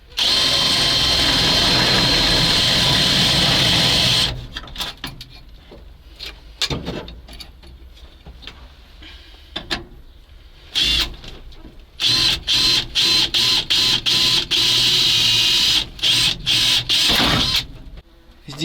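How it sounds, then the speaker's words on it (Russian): A power drill bores a hole in a metal part of an old ZIL crane truck, starting with a loud steady whine, then breaking into short repeated bursts with gaps of quiet between them. "О, сверлим отверстие."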